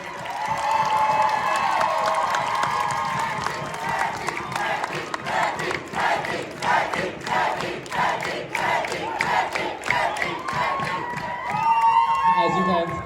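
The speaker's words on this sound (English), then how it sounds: "Let's give her a round of applause, everyone." An event audience breaks into applause and cheering, dense clapping mixed with shouts and whoops that swell and dip over more than ten seconds, with voices rising above the claps near the end.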